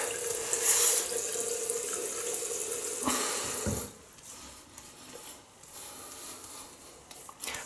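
Tap water runs into a sink as hands are wetted before shaving, a steady close splashing stream that cuts off after about three seconds, leaving quiet handling and light drips.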